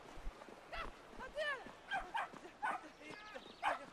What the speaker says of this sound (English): He got chased down by a little doggy.